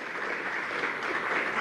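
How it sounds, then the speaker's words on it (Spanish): A room of people applauds a teacher, Professor Graciela, at a Venezuelan government event on the return to classes, giving a steady, even wash of clapping that holds at moderate loudness throughout, with no talk. "un aplauso a la profesora Graciela"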